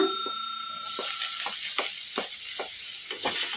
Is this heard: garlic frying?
yes